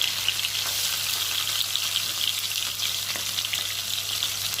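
Fish fry in mustard oil with a constant close, hissing sizzle, even and unbroken throughout, with a low steady hum beneath and no talk.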